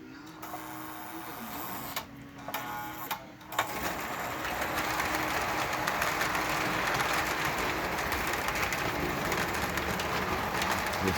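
A 1978 Lionel MPC Conrail rectifier electric model locomotive running on track, a steady whirring electric motor hum with a constant rattling drone that starts after a few brief pauses and continues evenly.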